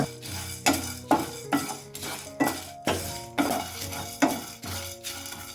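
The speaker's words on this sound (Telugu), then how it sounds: "ఇవన్నీ ద్వారగా ఒక 40 సెకండ్లు వేయించుకోవాలండి సన్నమంట మీద" Whole red chillies, cardamom, cloves and cinnamon are dry-roasted in a pan over a low flame. Close, steady stirring scrapes and light clinks repeat roughly once a second, with no talking.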